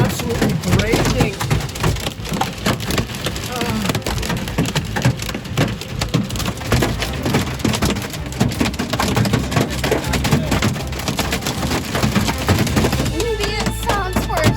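Hail pounds steadily on the roof and walls of an RV during a storm, a dense, loud, continuous clatter and hiss with no pause throughout.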